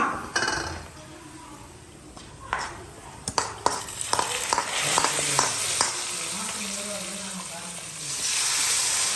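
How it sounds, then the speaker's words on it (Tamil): Hot tempering is poured into a fish curry: utensil clinks and scraping sharpen into a burst of sizzling, with faint background voices. "தாளிச்சு முடிச்சாச்சு ஊத்திடுவோமா"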